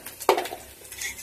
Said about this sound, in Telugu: ఇవన్నీ వేసుకొని బాగా కలుపుకోవాలి